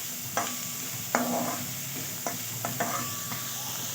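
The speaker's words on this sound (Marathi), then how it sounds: "आता आपला कांदा मिरची छान परतून झालेली आहे" Onion, green chilli and grated ginger sautéing in a pan for veg paneer cheese momos, a steady frying hiss broken by several spatula scrapes and stirring knocks.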